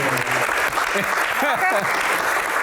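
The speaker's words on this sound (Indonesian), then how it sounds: "Oke, tepuk tangan." Studio audience applause during a televised Q&A talk show, a dense burst of many hands clapping throughout, with voices talking over it midway.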